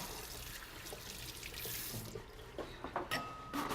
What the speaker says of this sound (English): So we wash our hands